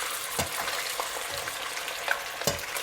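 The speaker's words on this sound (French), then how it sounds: "nous allons prendre notre viande et on va la mettre dans l'huile" Meat sizzling as it goes into hot oil in a pan while cooking mafé, a steady broadband crackle with a few sharper pops and stirring clicks, fairly close and without talk.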